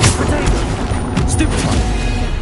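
Bombarda explosion spell in the Hogwarts Legacy video game, heard as a loud, continuous rumble of blasts and crackling impacts in the middle of combat.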